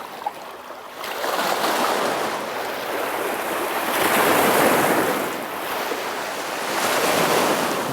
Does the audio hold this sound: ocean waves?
yes